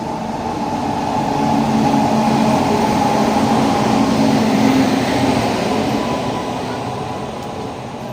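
A passenger train rolls into a station platform on the Dhampur to Moradabad route, a steady loud rumble of wheels and carriages that swells and then eases slightly as it slows, with no talk over it.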